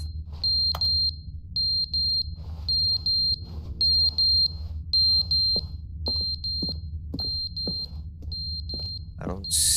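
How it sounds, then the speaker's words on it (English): A fire alarm in the video game The Stanley Parable sounds a loud, repeating high-pitched beep in regular short bursts over a low hum, with sharp clicks and knocks mixed in. "I can't reach that fire alarm of some sort. Whatever that is. Smoke alarm, fire alarm."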